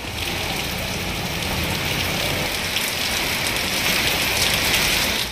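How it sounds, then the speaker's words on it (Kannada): Heavy rain pours down in a continuous, dense hiss of drops striking surfaces, steady and enveloping throughout with no voices. "ಜಿಲ್ಲೆಯಲ್ಲಿ ಧಾರಾಕಾರ ಮಳೆ ಸುರಿದಿದೆ"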